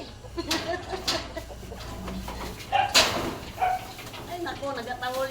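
Several dogs bark in short bursts near a backyard chicken coop, mixed with the clucking of hens and someone talking over them.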